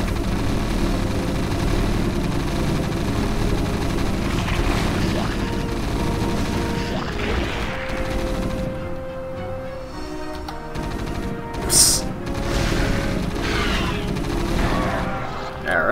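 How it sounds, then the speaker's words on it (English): Gunfire and explosions in the StarCraft video game: dense, continuous battle noise with rapid shots and booms that thins out midway into engine-like hums and scattered blasts, with a sharp burst near the end. "now that all the gunfire settled down again"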